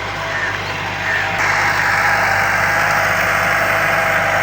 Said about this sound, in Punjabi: ਟਰੈਕਟਰ ਨੇ ਦੋਹਰੀ ਸੀ ਲਾ ਰਿਹਾ ਬਾਕਰ ਭਾਈ ਡਿਸਕਾਂ ਨੂੰ